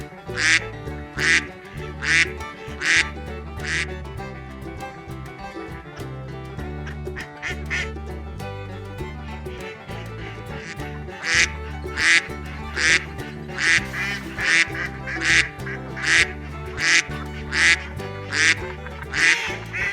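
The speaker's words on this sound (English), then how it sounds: "duck" Ducks quack in repeated bright bursts, a run of calls early on and a steady rhythmic series later, loud and close over a continuous bed of background music.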